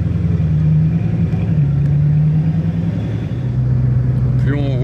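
Bugatti Chiron Super Sport hypercars cruising in a three-car convoy, a loud, steady engine drone with shifting pitch heard from a following car, with voices talking over it.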